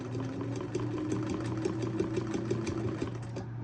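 A sewing machine runs backward to make a reverse stitch, a steady close mechanical whirr with a fast needle patter throughout and no voices.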